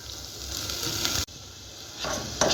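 Washed lentils and soaked rice fry in a pan for khichuri. A brief close sizzle and hiss carries on with stirring scrapes, breaks off for an instant in the middle, then picks up again.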